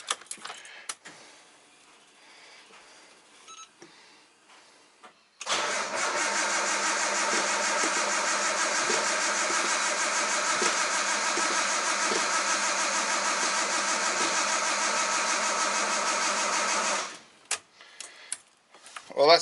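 A Nissan R32 Skyline engine cranks without starting, a steady loud whirring churn lasting about twelve seconds before cutting off, with faint clicks and quiet shuffling before and after.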